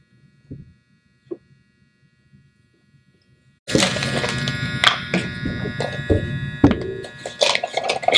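A plate joiner cuts biscuit slots into 3/4 inch plywood: after a few quiet knocks, the motor kicks in sharply with a loud, close, high whine and rough cutting noise that runs to the end.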